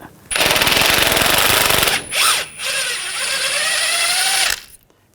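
A pneumatic impact wrench zips a nut off the sway bar link of a 2014-2018 GMC Sierra, two loud rattling bursts with a short pause between, close and alone.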